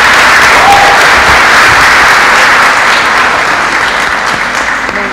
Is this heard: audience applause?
yes